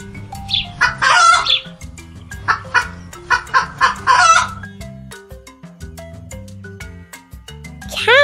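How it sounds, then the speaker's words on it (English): Chickens on a farm cluck in bright, busy bursts, ending in the start of a rooster's crow, all over a steady backdrop of cheerful children's music. "Chicken."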